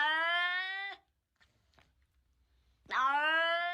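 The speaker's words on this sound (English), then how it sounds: "This cat sounds like Chubby" A cat lets out two long, loud, drawn-out meows separated by a near-silent pause, each one harmonically rich and close.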